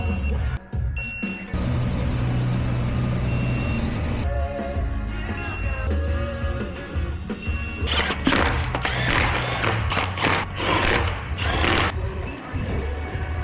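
A ratchet torques bolts during a wheel bearing replacement on a 2006 Trailblazer SS: loud, close mechanical clicking and ratcheting bursts, with a steady electronic tone in the background.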